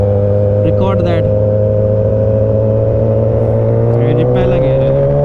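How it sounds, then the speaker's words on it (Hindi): A Kawasaki Ninja ZX10R motorcycle accelerating in first gear, heard as a loud steady engine drone with a rising whine, while someone talks over it in two short bursts. "चेक करते हैं पहले गियर में कितने पे जाती है हमारी NR।"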